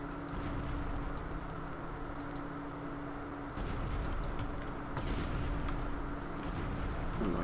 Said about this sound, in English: Just have to know how far you chuck a grenade when you throw a grenade